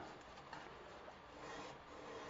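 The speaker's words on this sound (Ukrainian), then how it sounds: "Після гріндера йде ручна шліфовка наждачкою." Steady dry rasping of sandpaper worked by hand along a steel knife blade after grinding, a continuous close scratchy rubbing with slight swells in loudness and no talking.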